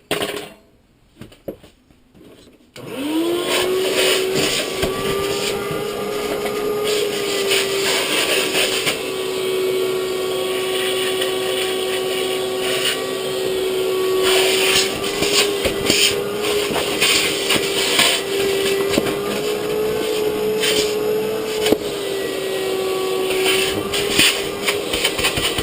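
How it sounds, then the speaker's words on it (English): Vacuum cleaner used to clean out tubs, switching on with a rising whine and then holding a loud steady drone with scraping and knocking noises throughout, close and alone. "it doesn't take very long to clean the tubs with the vacuum"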